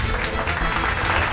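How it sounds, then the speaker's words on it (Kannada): An audience claps to welcome a dancer onto the stage of a televised talent show, a steady dense applause that fills the short moment without a break. "ಚಪ್ಪಾಳೆ ತಟ್ಟೋದ್ರ ಮೂಲಕ ಆಕೆನ ವೆಲ್ಕಮ್ ಮಾಡಿ."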